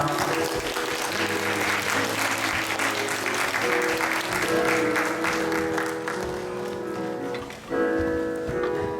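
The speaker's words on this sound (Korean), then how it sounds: "네, 그룹 나와주시면 네, 박수 주세요." A church congregation at Sunday worship applauds a group of students called to the front. The clapping is dense and sustained, with a droning tone underneath and a short dip near the end.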